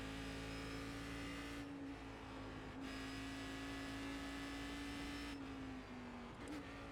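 A Cadillac CTS-V race car engine in the iRacing simulation at the Nürburgring Nordschleife holds a steady high-revving drone, with a couple of brief drops as the driver shifts or lifts, continuous and close.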